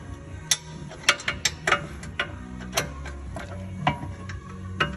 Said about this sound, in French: j'ai la place de passer une clé un peu plus grosse à cliquer. Je suis en desserrage là